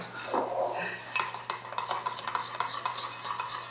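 Wet ingredients for vegan, gluten-free double chocolate muffins being stirred in a bowl, a utensil scraping and clinking rhythmically against the side in quick repeated strokes, close and clear with no talking.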